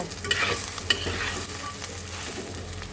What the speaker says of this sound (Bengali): সয়াবিনটাকে এবার মিক্স করে দেব